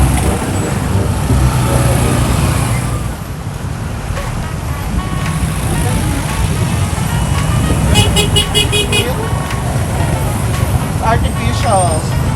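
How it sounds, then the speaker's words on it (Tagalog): Evening street traffic in Nigeria rumbles with engines and passing vehicles, with a short burst of repeated horn toots near the end and voices talking over the continuous noise. "So here there's traffic every 6 o'clock in the evening."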